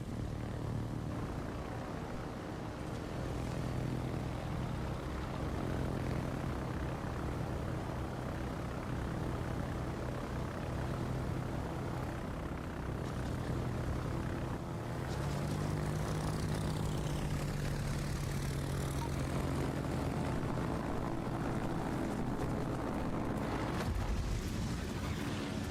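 Propeller bombers drone overhead in World of Warships, a steady multi-engine hum that swells and fades over a constant low rumble for the whole stretch, with no talking.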